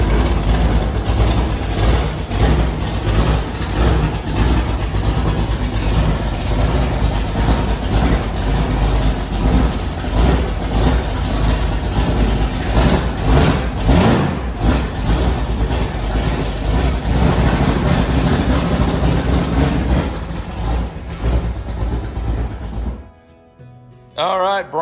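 A 1983 DeLorean and other cars idle loudly and steadily close by, the engine note rumbling continuously for most of the stretch before cutting away near the end.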